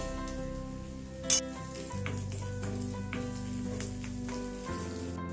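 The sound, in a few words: sautéing whole coriander seeds in pan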